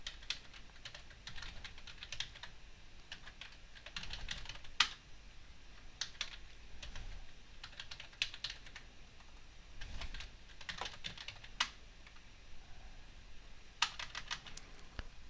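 Someone typing a password on a computer keyboard, quick irregular bursts of close, quiet key clicks with short pauses between them.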